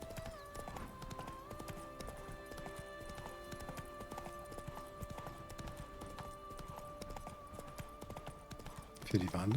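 Roach the horse gallops in The Witcher 3: Wild Hunt, with steady clip-clopping hooves running throughout under game music, ending in a louder burst at the close; a voice speaks over it.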